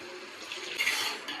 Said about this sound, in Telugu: పన్నీర్కు సరిపోయే వాటర్ పోసుకుంటున్నాను